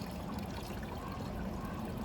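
Mount Shasta spring water pouring in a steady, soft trickling stream, close and quiet, with no voices.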